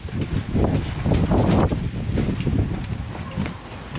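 Strong gusts of wind batter a tent tied down with ropes all around, in windy weather up high; loud, continuous rushing and flapping noise that swells and eases without pause.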